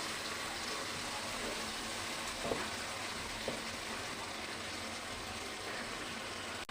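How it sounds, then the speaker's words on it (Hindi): Spice masala with yogurt frying in a pan for beef kofta, a constant dense hiss of sizzling with a couple of faint utensil taps, close and without speech. "अब हम मसाले की अच्छी तरह से भुनाई करेंगे इसकी"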